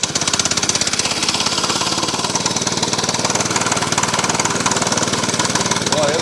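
A small gas engine on a bandsaw mill, fired on the first pull, runs loud and close with a fast, steady knocking putter throughout.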